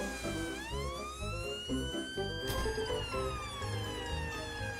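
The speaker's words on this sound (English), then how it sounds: "Peppa and Dr. Brown Bear quickly jump into the ambulance and drive off to the park." A cartoon ambulance siren wails in rising and falling tones as the vehicle drives off, playing alone and prominent over light background music with no talking.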